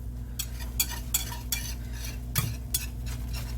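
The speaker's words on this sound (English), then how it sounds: "I'm whisking this" A whisk beats eggs in a bowl, rhythmic metallic strokes clicking against the side about every half second, close and fairly quiet over a steady low hum from the kitchen.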